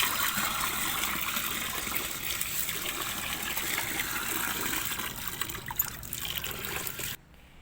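Rinse water from washed meat pours and trickles steadily, a continuous gushing drain that runs for several seconds before cutting off abruptly near the end.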